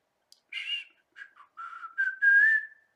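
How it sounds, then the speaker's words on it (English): A person whistles a short melodic phrase alone, several clear notes ending in a longer held tone, close and clean. "That little whistle line, that's pretty tight"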